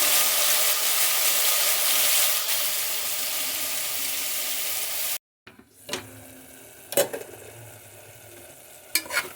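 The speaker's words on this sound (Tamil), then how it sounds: "வெங்காயம் தக்காளி வதங்கிடுச்சு" Onion and tomato sautéing in a pan, a strong continuous sizzle with stirring for about five seconds, then it cuts to quieter scraping and a few sharp clinks.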